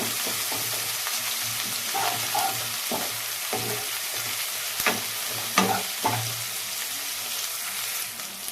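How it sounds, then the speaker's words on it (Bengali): Two small onions fry until soft for a spinach bharta, with a continuous near sizzle and a series of stirring scrapes and spoon taps on the pan. "পেঁয়াজটা নরম হওয়া অবধি একটু ভেজে নেব আমি।"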